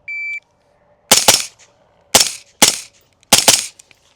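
A suppressed 5.56 rifle fires four sharp reports in quick succession, close and loud, some as fast doubles, after a short electronic shot-timer beep, with silence between them.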